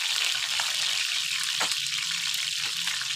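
Fish fries on a tawa while the moisture sizzles, a steady close hiss with a few soft crackles throughout, heard alone.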